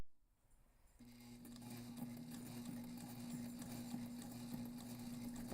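A sewing machine runs steadily on backpack fabric, its motor humming in an even, continuous stitching drone that starts after a brief quiet moment and carries on close and clear.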